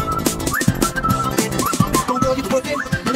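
Short rising whistle tones repeat over a thumping music beat, sounding in a rhythmic pattern with the track.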